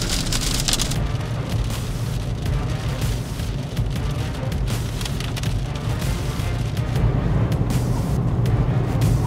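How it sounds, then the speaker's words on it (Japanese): Heavy clattering like ice pelting a small kei camper van on a winter drive, a dense continuous rattling roar that stays loud and close throughout. "氷が降ってるようなすごい音してます"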